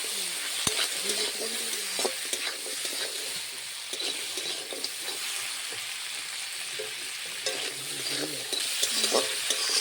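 Crab sizzles steadily as it fries in a pan, with scraping stir strokes and occasional clinks of the utensil against the pan throughout, close and continuous with no talking.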